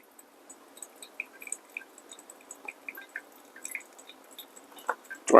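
Water is poured slowly onto ground coffee in a sieved pour-over brew, giving soft, quiet drips and wet squishy trickles that come in irregular bursts, growing louder toward the end.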